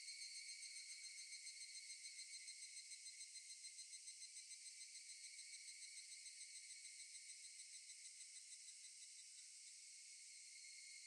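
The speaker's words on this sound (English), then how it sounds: "Cicada. Cicada." Cicadas in the Higurashi video game drone in a steady, shrill, high-pitched chorus, pulsing in a fast, even rhythm throughout without a break, with no voices.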